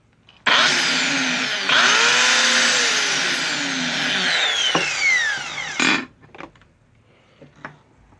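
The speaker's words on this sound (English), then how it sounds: "She makes a good little end grinder." A small Craftsman end grinder whines loudly at high speed, its pitch sliding and wavering for several seconds before it shuts off, followed by a few faint clicks and knocks.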